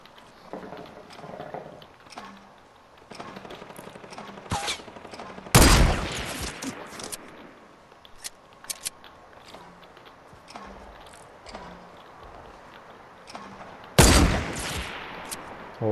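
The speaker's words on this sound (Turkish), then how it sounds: "ne güzel vuruyorum sniper'la" Sniper rifle shots in the Fortnite video game ring out as a few sharp, loud bursts spread across the stretch, with quieter game sounds and footsteps in between.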